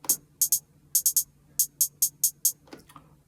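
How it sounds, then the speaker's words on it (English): A hi-hat sample for a grime beat ticks in short, sharp bursts, with single and paired hits falling in an uneven rhythm, then a faint softer texture at the end. "I've got a hi-hat."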